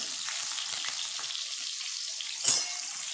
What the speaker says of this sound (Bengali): বেগুনটা হালকা করে ভেজে নেবো